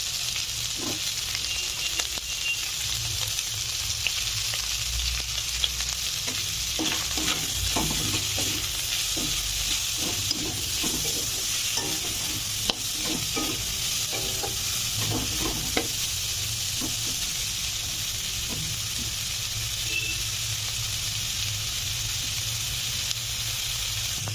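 Chicken and freshly added onion fry in a pan with a steady, even sizzle and hiss, broken by scattered clicks and scrapes of stirring, close and continuous with no talking.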